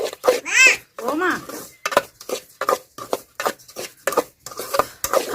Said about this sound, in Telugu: బొంబాయి రవ్వ వేసిన తర్వాత ఇట్లా కలుపుకుంటూ వేపుకుందామండి బొంబాయి రవ్వని.